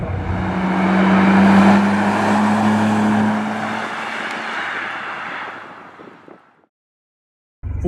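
A 25-year-old Nissan Skyline GT-R drones loudly under strong acceleration, its engine note holding and rising slightly before fading out, followed by a brief silence and an abrupt return of engine sound.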